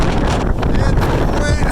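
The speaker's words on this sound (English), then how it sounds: "This has to be 60-mile-an-hour winds out here." Gale-force wind roars outdoors on a cold sunny day, a loud, continuous buffeting rush blasting across the microphone with no letup.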